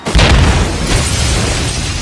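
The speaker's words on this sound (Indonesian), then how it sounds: "Setelah bom meledak," A bomb goes off in a single loud, deep boom that sweeps into a sustained roaring rumble and rolling debris noise, with no talking.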